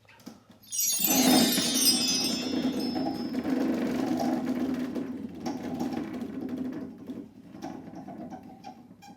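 A game show prize wheel spins with a fast, close, clattering run of clicks that slows and thins over several seconds, continuing steadily without speech.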